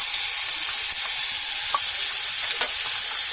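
Cashew and green chili paste sizzles steadily in a frying masala for seekh tadka, a continuous loud bright hiss with a few faint stirring scrapes and no talking.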